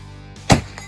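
A single sharp metallic strike of a bullet hitting a steel target during shooting practice, one brief loud impact with a short ringing tail and a faint second tap after, no talking.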